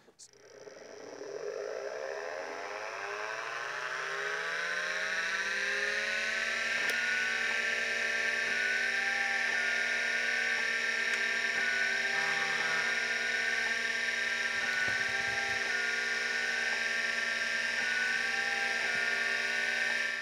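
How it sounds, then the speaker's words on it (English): A steady mechanical whine hums throughout with faint intermittent ticking and chattering from an old MFM hard drive's head seeking, close and continuous. "So it made that little bit of a noise there, not the spinning up, but at the head seek sound."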